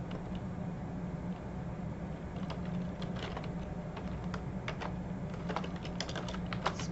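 Typing on a computer keyboard to enter a file name: a quiet, close run of irregular key clicks that speeds up toward the end over a low steady hum, with no talk.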